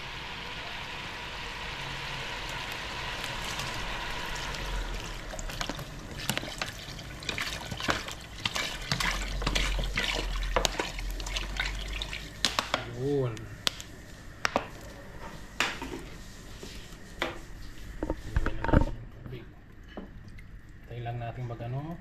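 Water pours into a cooking pot with a steady splashing rush, broken by scattered clinks and knocks of cookware close by.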